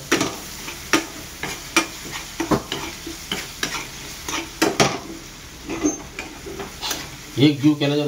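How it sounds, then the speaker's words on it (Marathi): Spoon stirring red chilli powder and garam masala in a frying pan for a Maharashtrian drumstick dry curry, sounding as repeated close scraping strokes over a soft sizzle, with a brief clatter near the end. "आता हे जरा एकजीव करून घेऊ।"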